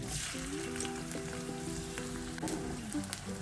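Chopped onions sizzle in hot white cooking oil in a pan for a chicken dish, a steady crackling hiss with a faint tonal hum in the background and no talk.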